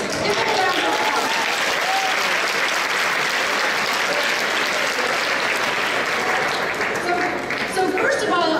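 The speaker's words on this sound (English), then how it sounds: "Give them a round of applause." Convention audience applauding the volunteers, sustained loud clapping from a large crowd filling the hall for several seconds.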